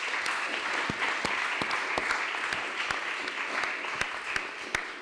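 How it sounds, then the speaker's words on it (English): An audience applauds at the conclusion of a robotics workshop at the Pontifical Academy, a sustained, dense clapping across the hall with no voices over it. "I would like to ask you to give them a round of applause."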